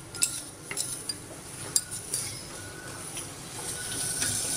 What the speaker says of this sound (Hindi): अब हम इसे अच्छे से एक बार मिक्स कर लेंगे, स्वेट कर लेंगे।